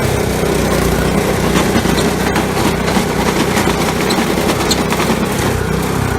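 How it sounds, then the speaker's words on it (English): A tiller cultivator working hard-packed, tractor-compacted soil between crop rows, heard as a loud, continuous engine drone with rough, grinding texture and no pauses. "I'm trying to till the space in between my rows where the tractor's driven a lot and it's super hard"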